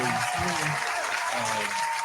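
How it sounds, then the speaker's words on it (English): Audience at an interview with an artist clapping steadily, a dense, even patter of applause for about two seconds with speech murmuring faintly underneath. "Clap for that, yes."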